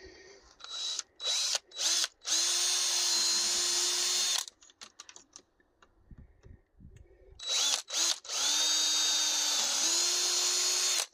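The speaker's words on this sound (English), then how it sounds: "Now we can get all these drilled, pilot holes drilled." A power drill boring pilot holes for hinge screws, in two long loud bursts of steady whine with short trigger blips between, and a quieter pause of clatter and handling in the middle.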